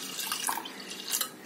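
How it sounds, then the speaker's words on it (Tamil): Water poured into a pressure cooker holding washed moong dal for a drumstick leaves dal, a soft close splashing and trickling stream with a couple of brighter surges. "பருப்பு சேர்த்துட்டு தேவையான அளவு தண்ணி ஊத்திக்கோங்க"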